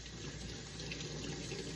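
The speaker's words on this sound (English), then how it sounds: "Wash them in hot water so it'll get that grease off." Hot tap water runs steadily into a sink while greasy hands are washed, a close, continuous hiss with no talk.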